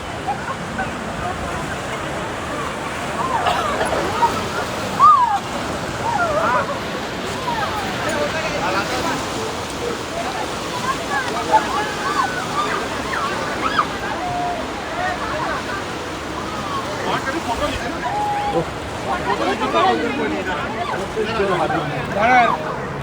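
Rushing water of the Ganga river where the Alaknanda and Bhagirathi meet at Devprayag, a steady broadband roar of flowing, churning current filling the whole stretch, with voices talking faintly over it.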